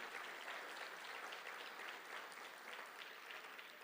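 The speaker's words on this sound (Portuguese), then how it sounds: "Você pode aplaudir ao Senhor?" A church congregation applauds during a Saturday service, dense continuous clapping from many hands at an even level from start to finish.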